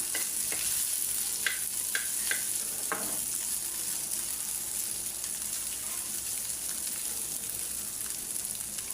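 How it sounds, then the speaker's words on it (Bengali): Small fish frying in a pan with a couple of lemon leaves, stirred with a few scraping strokes early on over a steady, bright background sizzle that carries on throughout. "দুইটা লেবু পাতা দিয়ে আরেকটা নাড়া দিয়ে দিব"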